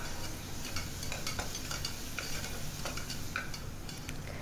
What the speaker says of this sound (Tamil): அதையும் கொஞ்சம் நேரம் எண்ணெயில் வதக்கலாம்